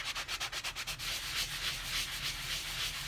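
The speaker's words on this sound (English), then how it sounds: "you just start sanding" Sanding a cast stone by hand with an 80 grit sponge block: a close, steady abrasive rubbing, first in short quick strokes and then a continuous gritty scrape.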